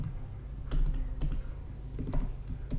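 Quick, light keystrokes on a computer keyboard, irregular clusters of taps at close range over a quiet background.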